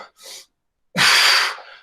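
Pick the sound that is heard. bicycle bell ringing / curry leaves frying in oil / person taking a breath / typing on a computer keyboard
person taking a breath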